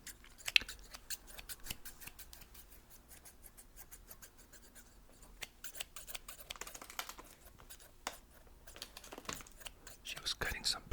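Scissors snip through paper close by, a steady run of crisp cuts with faint whispered talk underneath, growing busier and louder toward the end.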